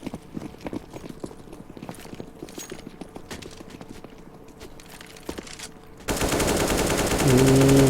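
Gunfire sprays through a wall in Counter-Strike during a pro esports match, with a run of rapid, close shots over footsteps and game noise, then a louder, denser burst of sound near the end.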